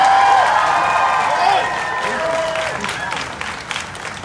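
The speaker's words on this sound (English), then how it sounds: "please give a resounding round of applause to my good friend and the distinguished gentleman, Tony Thurman." Audience applause fills a hall at the California Afterschool & Summer Challenge 2019 education conference, a steady dense wash of clapping that swells briefly then eases, with voices and cheers mixed in throughout.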